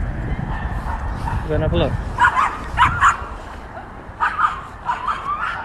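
Several dogs bark and yip excitedly in quick bursts along a country-park walk, fairly close, with people chatting over and between the barks.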